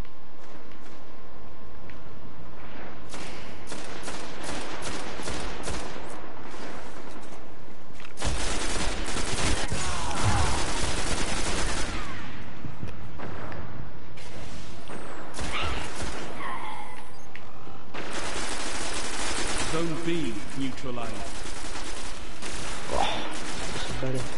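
Hip-fired automatic guns in a Destiny Iron Banner multiplayer match crackle in long, rapid bursts, loud and close, with brief gaps between volleys and faint game announcer voices in the background.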